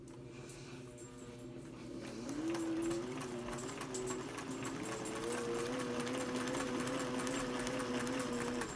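A sewing machine running a zig zag satin stitch with plain cotton thread, a steady quiet mechanical whir that picks up pace and hums on alone, with no talking.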